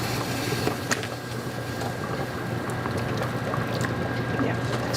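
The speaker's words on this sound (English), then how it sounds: "Now I need a little bit extra liquid, so I'll use pasta water here." Starchy pasta water poured from a pot into a pan of chicken spaghetti sauce, a steady trickling splash running continuously at close range with faint kitchen clatter.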